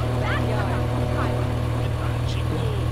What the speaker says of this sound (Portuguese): Ele fica vibrando com um motor funcionando.